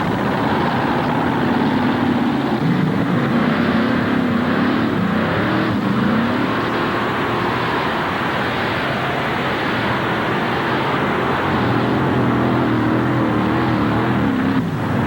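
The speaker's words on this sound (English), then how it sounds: "This is a former Banner Brothers orange tractor running Chevrolet engines, 5 of them." An alcohol-fuelled pulling tractor with five Chevrolet engines roars continuously at high volume at a 1988 NTPA tractor pull in Hamburg, a thick, unbroken mechanical drone with shifting pitch for the whole stretch and no voices.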